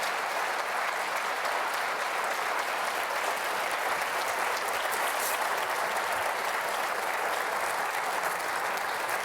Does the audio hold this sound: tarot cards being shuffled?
no